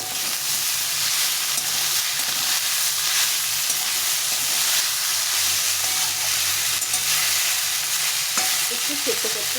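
Mustard greens fry in a pan while being stirred, a loud continuous sizzle and hiss with steady scraping, close and unbroken throughout.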